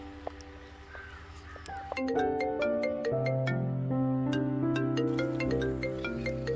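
A phone ringtone plays a bright, repeating melodic chime pattern, steady and clear, starting softly and then ringing louder for several seconds.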